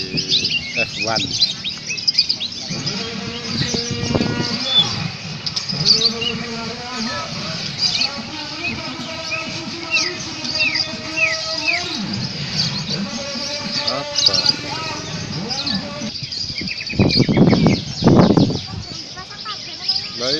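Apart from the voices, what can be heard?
canary singing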